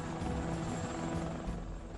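A Black Hawk UH-60 helicopter flies nearby at a military base in Iraq, its rotor chop forming a loud, steady, dense drone that fills the whole stretch.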